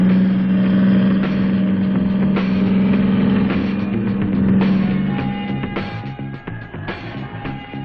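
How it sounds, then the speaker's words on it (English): Armoured personnel carriers drive in a military cross-country competition, their heavy engines giving a loud, continuous roar and rumble with shifting pitch, fading slightly toward the end. No one speaks. "Drivers of armoured personnel carriers compete in a cross-country event."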